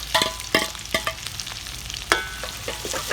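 Small onions sizzle and crackle as they fry in hot oil for a mutton curry, with repeated scraping stirs of a utensil against the pan, close and fairly loud, no voices.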